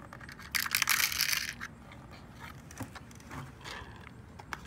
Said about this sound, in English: Big old handful of Schrader cores.